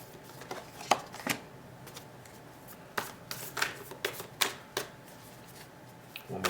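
A deck of tarot cards being shuffled by hand, with crisp riffling and flicking snaps close by in uneven clusters and short pauses between bursts, with no speech.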